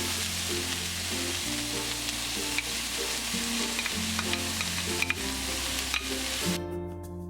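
Vegetables and garlic sauté in olive oil in a hot pan for vegetable spaghetti, a steady close sizzle with clinks of stirring running throughout, no voices.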